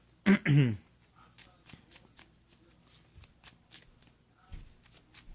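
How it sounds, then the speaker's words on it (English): A Pokémon trading card deck is shuffled on a table, opening with two loud riffle bursts followed by a quick run of soft card flicks and taps, close and otherwise quiet. "So let's get this shuffled up."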